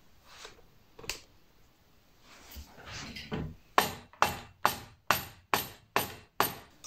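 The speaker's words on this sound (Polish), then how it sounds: "to jest support wbijany, także użyjemy do tego młotka" A hammer drives a press-fit bottom bracket into a gravel bicycle frame: a few scattered knocks and scraping, then a steady series of seven sharp metallic strikes about half a second apart, close and loud.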